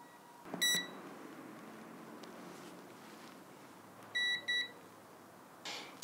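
A Mustool MT826 multimeter on its continuity setting gives short, faint electronic beeps: one brief tone early on, then a pair of beeps a few seconds later over low room hiss.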